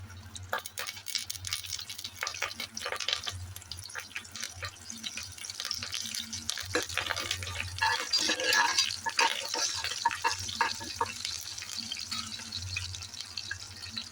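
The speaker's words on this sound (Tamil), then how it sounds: "காஞ்ச மிளகா பொரிஞ்சு வருதுங்க. இந்த ஸ்டைலில் வந்து நான் கருவேப்பிலை கொஞ்சம் போடுறேன்" Dried red chillies and curry leaves crackling in hot oil in a pan, a steady hiss with dense, irregular pops and spits throughout, close and moderately loud, with a low hum underneath.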